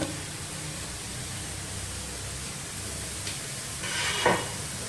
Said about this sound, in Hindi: 2 मिनट के बाद अब मैं इसमें शामिल करूँगी ये टमाटर कटा हुआ।